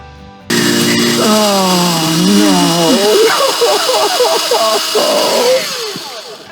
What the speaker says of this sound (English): it's on to the drilling in some leg holes